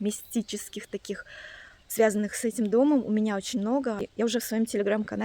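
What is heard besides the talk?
No distinct noise like a dog, phone or traffic.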